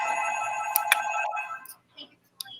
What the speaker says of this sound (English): Answer the phone, will you, Porky?